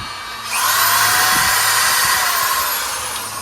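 A grinder powered by an ALLPOWERS 1800W solar generator power station spins up into a loud, steady high-pitched whine that holds for a few seconds before easing slightly, with no talk.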